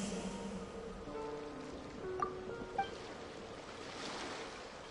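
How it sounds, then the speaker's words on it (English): Ocean waves wash steadily in the Genshin Impact game world, a soft, continuous surf hiss heard faintly with light tonal game music over it. "Go to where you can hear the sound of the waves."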